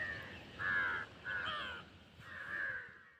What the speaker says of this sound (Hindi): वहाँ पे ढेर सारे कौवे हैं